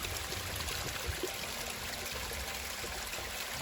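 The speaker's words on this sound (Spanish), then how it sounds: "Otro naciente de río." A small stream at a river source in San Francisco de Macorís flows with a steady, close babble and trickle, continuous and even throughout without any voices.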